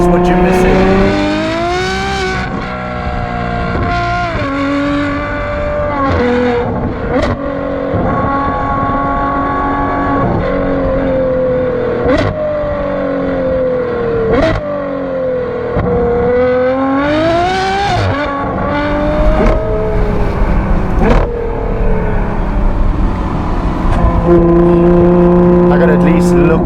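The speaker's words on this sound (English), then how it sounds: "If you own an 812 and you do not have a Novitec exhaust fitted to that car, this is what you're missing." Ferrari 812 GTS fitted with a Novitec exhaust, its V12 revving hard and continuously, loud and close, with rising and falling pitch sweeps and sharp crackles; a voice is briefly heard over it.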